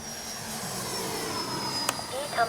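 A Freewing F-22 RC jet flying low past, a loud steady whooshing turbine-like roar with a rising whine near the end, with a voice calling out briefly over it.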